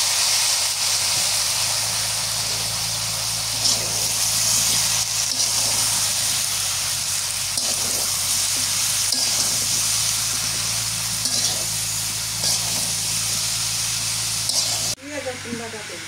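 Vegetables sizzle in a hot pan while fish is cooked at a village home, a steady loud hiss running unbroken for many seconds before stopping abruptly near the end.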